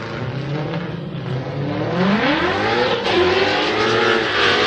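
A Ford Mustang drift car on Falcon tires revs hard at a 2018 Formula Drift qualifying event in Orlando, its loud engine note climbing and swelling steadily, close and continuous with no voices.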